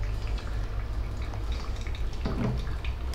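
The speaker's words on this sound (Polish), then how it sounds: "Kiedy mamy 30 sekund, dolewamy kolejną porcję wody." Water poured over ground coffee in a Kalita Wave dripper makes a continuous soft trickle and splash up close, with no talk.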